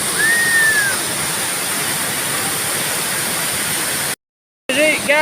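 A waterfall, the seventh on a mountain in Mambercal in the Philippines, gives off a loud, steady broadband rush of falling water that briefly cuts out, with faint birdsong or voices near the start and end.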